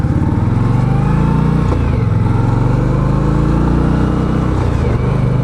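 Indian Scout motorcycle engine on a test ride, a loud steady close drone with a dip as the engine braking sets in and then climbs again, with wind noise.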